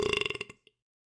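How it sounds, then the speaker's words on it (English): A person lets out a long, rumbling belch after drinking sparkling water, loud and close, rattling for about half a second before fading, followed by a soft click and a brief breath. "It does make you belch a lot"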